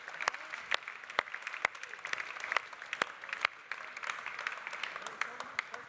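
Audience applause at the Swiss Coffee Festival 2023 during a prize thanks, with sharp, fairly rhythmic claps ringing out over a continuous patter of hands from a moderate crowd.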